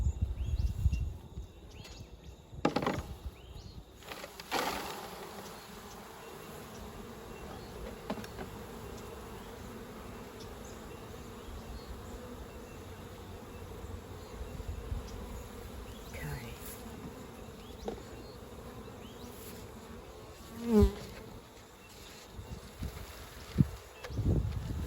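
Honey bees buzz steadily and close during an autumn varroa check of a beehive, a continuous drone lasting throughout with a few brief louder knocks and handling sounds.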